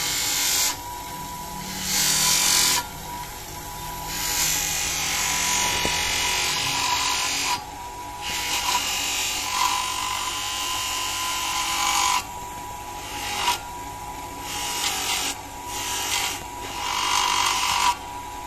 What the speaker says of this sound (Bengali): তো আমি এইখানে এখন বফ করব